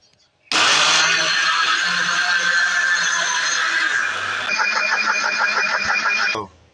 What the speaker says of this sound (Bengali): এখন ব্লেন্ডার করব